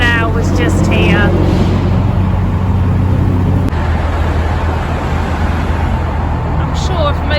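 Motorway traffic with lorries on the M6 at Spaghetti Junction, heard from the canal below: a loud, continuous low roar and rumble of engines, with a few tonal whines on top.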